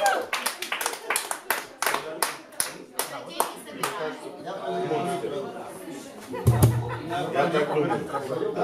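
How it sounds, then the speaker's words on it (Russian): An audience claps at a small house concert, with a burst of quick, sharp hand claps fading into scattered clapping, chatter and laughter, and a loud knock or thump near the end. "Можете хлопать все."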